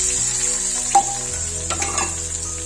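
Soya chunks frying in a pan give a steady, close sizzle, with a few clinks and stirring scrapes over the constant hiss.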